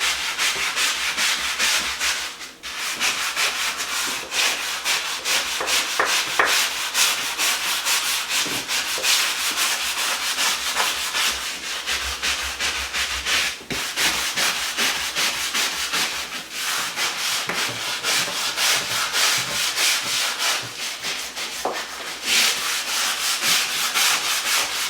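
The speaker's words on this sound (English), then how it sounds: "But let's give it a scrub and see what it looks like." A brush scrubs tile grout in steady, close back-and-forth strokes, a continuous rough scratching that carries on without pause.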